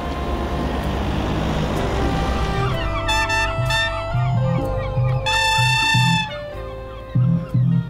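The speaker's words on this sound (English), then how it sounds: "In the background you hear the sound of small fishing vessels mixed with the sound of seagulls." Seagulls calling in bursts over the low hum of small fishing vessels at Vágsbotn marina in Tórshavn, the birds close and shrill against a steady motor drone.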